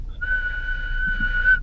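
A person whistles in imitation of Negan's whistle from The Walking Dead, a single clear sustained note held for over a second, loud and close with no talk.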